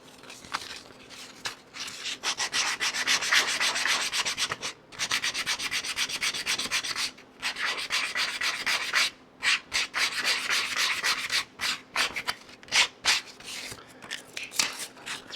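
Wood for a Greene and Greene style cocktail table top is hand-sanded with 220 grit sandpaper: steady rhythmic rubbing strokes, close and fairly loud, with brief pauses and choppier strokes toward the end.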